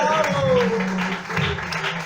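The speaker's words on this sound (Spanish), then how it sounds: "Ese aplauso mejor para él" Congregation applause during a Sunday morning church service: dense, steady clapping that fills the whole stretch, with a sustained voice and tonal music running over it.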